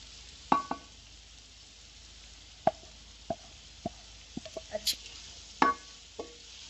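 A spoon knocks and scrapes against a pan while macaroni is mixed with spices, producing scattered sharp clacks and taps over a faint steady hiss, with quiet gaps between strokes.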